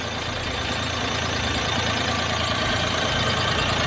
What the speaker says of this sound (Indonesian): Ini sound meter ini untuk mengukur tingkat kebisingan ya di dalam mesin ya